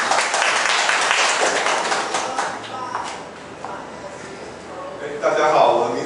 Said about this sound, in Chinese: 好，掌声欢迎 Leo。